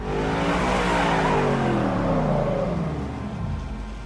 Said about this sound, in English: One of the cars crashes straight into the water, killing the driver.